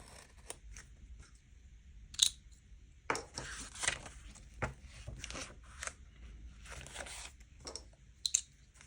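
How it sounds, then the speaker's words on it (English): Scissors snipping through paper for a collage, a series of short crisp cuts and rustles close to the microphone, spaced irregularly with quiet gaps between them. "I'm going to cut from the other side too."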